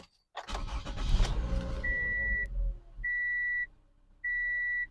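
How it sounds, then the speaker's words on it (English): A car engine cranks and catches into a steady idle, close by, followed by a dashboard warning chime beeping three times in separate tones. "So let's start up the vehicle now."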